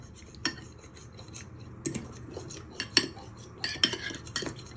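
A fork beating eggs in a bowl for an orange cake, scattered sharp clinks and scraping taps of metal against the bowl, close and fairly quiet, with no voices.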